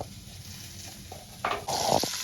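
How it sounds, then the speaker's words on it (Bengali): Cubes of paneer fry in a pan with a quiet, steady sizzle that swells into louder bursts of spitting oil partway through, with no talking. "এবার আমি পনিরটা ভেজে নেব।"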